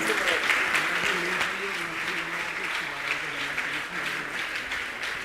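A large congregation at a religious question-and-answer discourse at Gunayatan, Shikharji, Jharkhand claps in steady, continuous applause, heard from a distance, while someone speaks over it on a public-address system.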